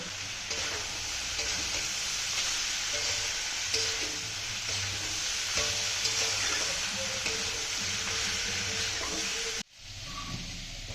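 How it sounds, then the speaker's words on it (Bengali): Ground cumin and coriander frying in a pan for jackfruit dal, heard as a steady close hiss and sizzle with faint stirring, cutting off sharply near the end. "এটা দিয়ে ভালো করে কষিয়ে নেবো"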